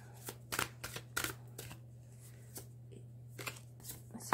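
Oracle cards being shuffled by hand during a tarot-style reading, a series of quick papery riffles and flicks in irregular bursts, fairly quiet and close, over a steady low hum with no talking.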